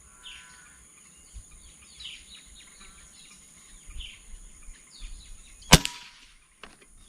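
A single sharp crack from a PCP Avenger air rifle fired outdoors at a target, standing out clearly against a quiet backdrop of scattered birdsong and chirps.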